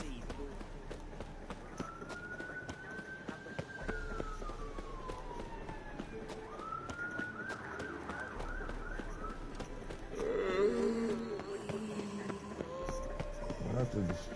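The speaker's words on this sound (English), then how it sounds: "the siren I hear in the background outside my apartment" A distant siren wails outside an apartment, rising and falling in long sweeps over steady background noise, with some voices and street sounds in the mix.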